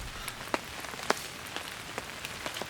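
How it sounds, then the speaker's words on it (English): Heavy rain falling steadily outdoors on a spring turkey hunt, a dense even patter with sharper individual drops ticking through it, no voices. "The next morning we met heavy rain"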